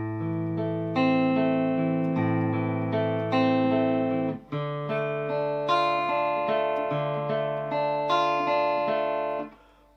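Guitar playing the opening line of a song, sustained chords with arpeggiated picked notes ringing over a steady low tone, clear and fairly loud, with a short break near the middle and no talking.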